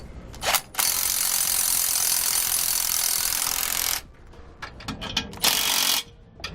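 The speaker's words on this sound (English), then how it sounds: "We'll then tighten them down using a 15mm socket." A ratchet with a 15mm socket tightens the bolts on SumoSprings Rebel Custom helper springs fitted to a 2014 Thor. A loud, steady mechanical whir runs for about three seconds, then gives way to a series of short, sharp clicks.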